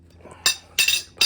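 A metal breaker bar is set down during a coilover ride height adjustment, making three short, bright clinks close by, with no talk.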